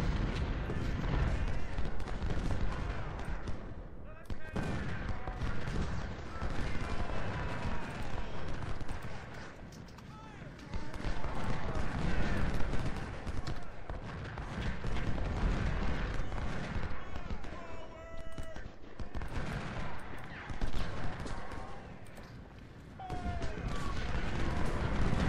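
Cannon and musket fire in the Ultimate General Civil War video game, a dense, continuous din of rolling volleys and booming artillery with brief lulls, loud throughout and dense enough to bury any voices.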